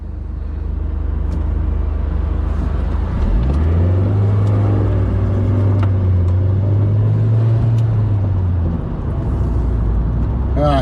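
Car passing on a country road just outside Clumber Park, heard from inside a Toyota Yaris: a steady engine rumble swells as it goes by, then fades, with constant road noise throughout and no talking.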